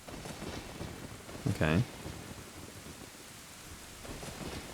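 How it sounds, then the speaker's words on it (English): Rain falls steadily in the Nintendo 64 game Zelda: Ocarina of Time, a constant close hiss with a soft rumble of thunder, and a voice speaks briefly over it. "The rain is falling harder."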